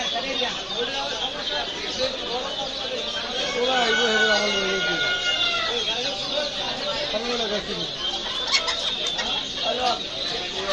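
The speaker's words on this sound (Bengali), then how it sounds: "আর এই যে দেশি মুরগি" Native country chickens cluck and chatter steadily in the background while a person talks over them throughout.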